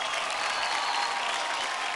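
A studio audience claps loudly and continuously at a children's talent show, a dense, even wash of applause with no voices on top.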